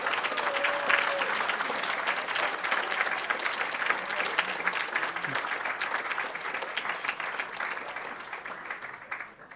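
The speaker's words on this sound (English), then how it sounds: "Another round of applause." Sustained applause from a large audience at the Awesome Games Done Quick 2014 speedrun event fills the whole stretch, steady and dense, slowly thinning toward the end.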